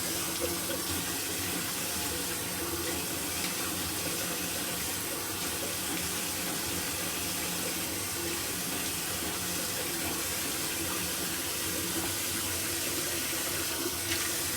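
Steady rush of hot water pouring from a tap into a sink, continuous and close, with no pauses for the whole stretch.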